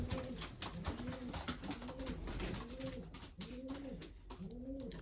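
Pigeons in a dark breeding loft coo repeatedly in overlapping rounded calls, close and fairly loud, with shuffling and wing flutters behind them.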